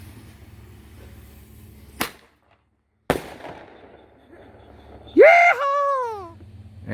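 Halloween fireworks show: two sharp, separate bangs a second apart, a quiet pause, then a loud whistling rocket whose shrill tone wavers and slides downward before fading into low background rumble.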